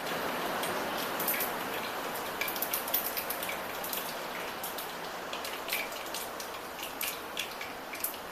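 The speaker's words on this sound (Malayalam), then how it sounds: "പുറത്ത് നല്ല മഴയാണ്, അത് കാരണം അതിൻ്റെ ശബ്ദത്തിൻ്റെ ഒരു ഇതുണ്ട്." Heavy rain falls outdoors as a dense, steady hiss, with scattered sharper drops tapping on a surface throughout, heard from indoors in a kitchen.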